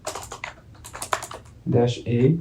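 Keystrokes on a computer keyboard as a command is typed into a Linux terminal during a Snort intrusion-detection lesson, a quick close run of clicks followed by a louder, fuller burst near the end.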